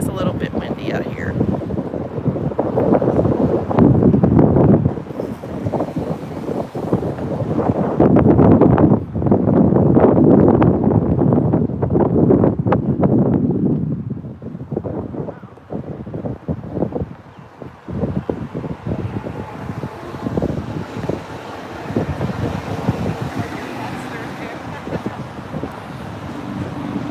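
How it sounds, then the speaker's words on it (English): Wind buffets the microphone outdoors at a protest, as loud low rumbling gusts that ease off later and leave a quieter background. "It is a little bit windy out here."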